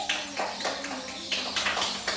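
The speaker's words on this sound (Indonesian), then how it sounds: "tepuk tangan lagi untuk kelompok melati" Students in an Indonesian classroom clap for a group that has just presented, a short run of fairly quiet, uneven claps from a small group, close by and without talk.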